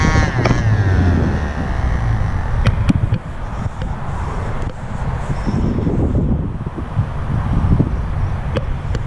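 Wind gusting over a wall at a control line model airplane flying field, a steady loud rumbling roar that buffets the microphone for the whole stretch with only small rises and dips.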